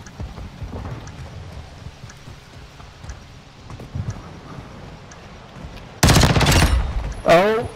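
Pistol gunfire in Call of Duty Modern Warfare II: after a quiet stretch of faint game ambience, a loud burst of sharp shots erupts near the end, followed by another short burst.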